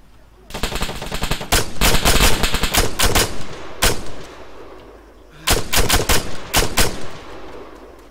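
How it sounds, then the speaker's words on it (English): Unsilenced gunfire in the video game Arma 3: loud, punchy bursts of rapid automatic shots in two clusters, with single cracks and short pauses between them and a quiet lull in the middle. "As you can hear, I've taken the silencer off this gun. Now it sounds a bit more beefy."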